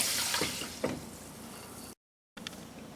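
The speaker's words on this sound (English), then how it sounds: "I'll put this in a pot, and into that I'll add 5 cups of water" Water pours into a pot of jasmine rice, a close, continuous rushing splash with a few sloshing bursts. It breaks off briefly, then resumes.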